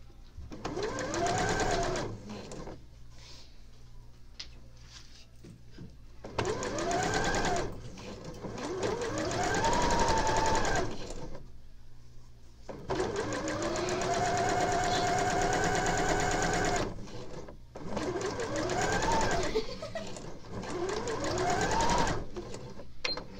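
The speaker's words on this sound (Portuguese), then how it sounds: "Pezinho de máquina encostadinho aqui na cremalheira e vai passar uma costurinha de segurança." A sewing machine runs a safety seam along a zipper tape with the presser foot against the teeth, whirring in several steady bursts of stitching separated by short pauses, close and clear.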